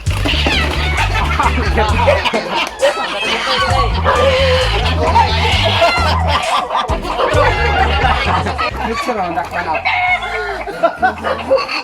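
Chickens and a rooster crow and cluck loudly and close by at a rural farm in Mambatangan, Bukidnon, with people talking and laughing over the birds throughout.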